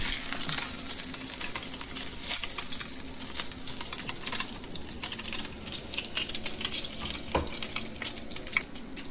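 Onions sautéing in leftover oil in a pan while a smash surf and turf burger is being made, a continuous close crackling sizzle with light stirring and scraping throughout, no talking.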